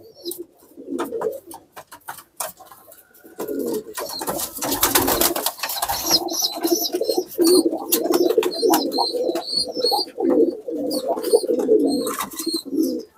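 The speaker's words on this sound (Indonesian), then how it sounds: "Posisi burung lagi ngeloloh anakannya ini." A pigeon feeding its roughly two-week-old chick, giving low repeated cooing close by, with fluttering, scuffling and a burst of wing noise midway, plus high squeaky calls from the chick.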